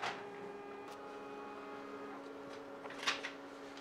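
An HP laser printer runs quietly while printing a network summary page, with a faint steady hum broken by a few soft mechanical clicks and taps near the end.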